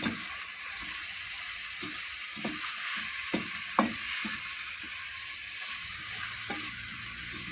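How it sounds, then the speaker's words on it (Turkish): Purslane fresh from a home garden sautéing in a pan, a steady sizzle running under sporadic scrapes and clacks of a stirring utensil, close and moderately loud with no voices. "Şimdi de semiz otunu ilave ediyorum. Biraz da bunu kavuracağım arkadaşlar."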